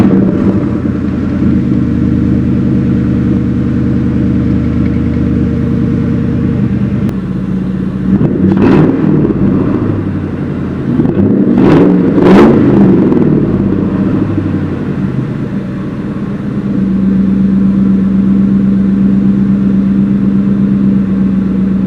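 A 1999-2004 Ford Mustang GT V8 is started after a fuel pump replacement, then idles steadily, with a few sharp revs and a settling, rumbling idle up close.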